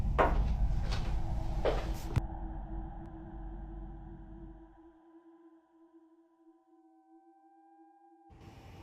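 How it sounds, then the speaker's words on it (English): Several quick knocks on an indoor house door land in the first two seconds, then fade into a quiet room filled with a faint steady electronic tone. "I can hear banging on the... Can you hear it? It's this door."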